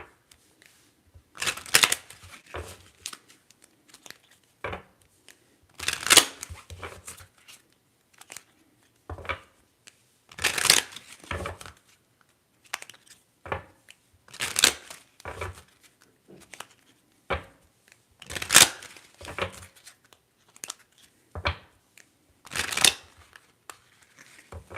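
Tarot cards shuffled by hand in an intimate ASMR setting, with repeated bursts of riffling and flicking separated by quiet gaps, close and crisp with no speech.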